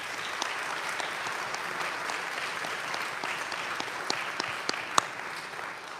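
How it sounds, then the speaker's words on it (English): An audience at a marching band concert applauds, a steady wash of clapping from a moderately sized crowd that runs evenly throughout with a few sharper individual claps. "We give them a round of applause."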